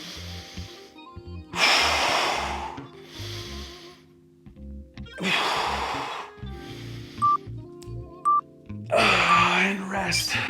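Deep, audible breaths during a bodyweight workout, with long forceful exhales and inhales close up, alternating in slow rhythm between quieter pauses and some electronic tones.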